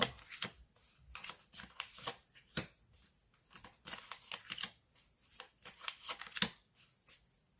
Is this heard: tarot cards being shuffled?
yes